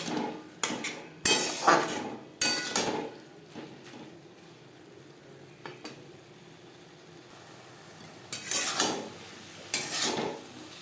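Banana flower (mocha) being stir-fried in a pan over a gas flame for a Bengali vegetarian mochar ghonto with coconut, heard as sharp intermittent bursts of spatula scraping and clanking against the pan between quieter stretches of faint sizzle.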